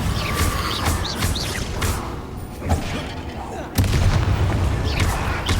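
A Bombarda blast in the Hogwarts Legacy video game: loud booming explosions with heavy low-end thumps, one sharp impact near the middle, layered over game effects and someone talking.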